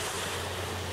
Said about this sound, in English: Some waves coming in just from the ferry